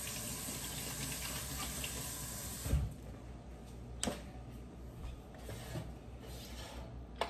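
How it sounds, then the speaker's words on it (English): A kitchen tap runs steadily in a sink while hands are washed after loading brats into a crockpot, a continuous broadband splash with a few brief knocks and bumps, close by and with no talking. "Wash my hands."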